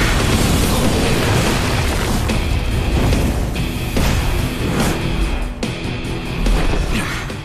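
A powerful Phoenix blast technique goes off in an animated Soul Land battle, filling the scene with loud, continuous roaring explosions and repeated booming surges.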